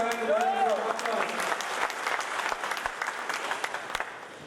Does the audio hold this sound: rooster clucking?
no